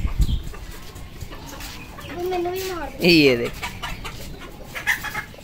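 Two roosters squawk and cluck in sharp bursts as they fight amid farmyard noise, with someone speaking briefly at the start.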